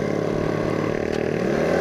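A motorcycle's stock exhaust drones steadily while riding uphill on a mountain road, a loud, continuous low engine note with harmonic hum and no pauses.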